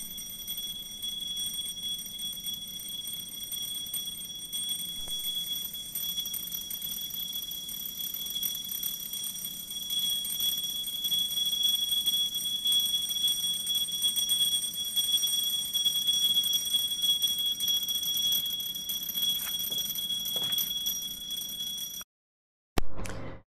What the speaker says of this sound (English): the sound of the electric bell become fainter